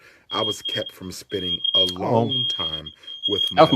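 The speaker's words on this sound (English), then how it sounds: "That's my fire alarm." A household smoke alarm gives a steady high-pitched electronic beep that keeps sounding behind someone talking, sometimes cutting out briefly.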